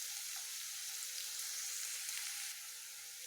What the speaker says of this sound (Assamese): পিঁয়াজখিনি আমি প্ৰথমতে ভালদৰে গোল্ডেন ব্ৰাউন হোৱালৈকে ইয়াক ভাজি ল'ম